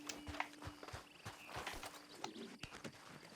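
Horse hooves clip-clop at a walking pace in Red Dead Redemption 2, an irregular series of close, soft thuds heard alone.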